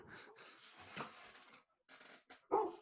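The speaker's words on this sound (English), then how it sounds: "that's my dog barking" A dog barks and whimpers indoors in short, uneven bursts, with a louder yelp near the end and brief silent gaps between.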